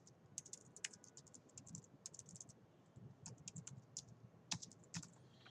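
Quick, irregular key clicks from someone typing a site name on a computer keyboard, in short bursts with brief pauses, close and fairly quiet with no talking.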